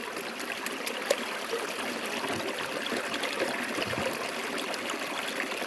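A river stream flows steadily with constant broadband rushing and trickling, close and even throughout, no voices.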